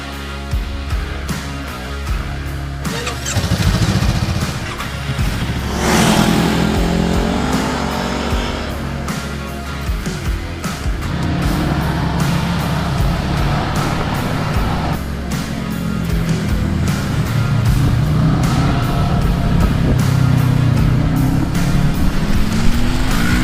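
Honda and another motorcycle start up and ride off, engines revving and rising in pitch as they accelerate, loud and close, continuous for over twenty seconds.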